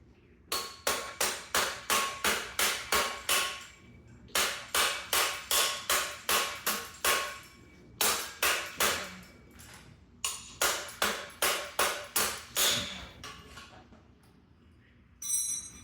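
A mallet pounds on a bike crank arm to knock it loose, striking in fast runs of sharp metallic blows, about eight to ten hits per burst with brief pauses between, loud and close with no voices.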